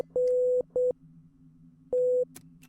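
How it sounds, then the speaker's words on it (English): Morse code beeps in a horror video game: a clean electronic tone sounding in three distinct bursts, one long, one short, then another long, with quiet gaps between and no voice. "Morse code."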